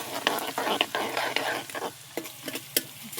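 Hot oil sizzles loudly in a pan while bhungla batata is frying, with garlic paste added, crackling steadily under sharp scraping stir strokes from a spoon.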